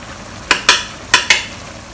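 Egg tofu being stir-fried in a pan with sugar and Chinese cooking wine, heard as four sharp spatula scrapes in two quick pairs over a quiet background sizzle.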